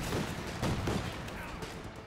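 Gunfire in a Company of Heroes 2 battle, a dense rattle of shots with a few heavier bursts, steady and mid-distance, no voices over it.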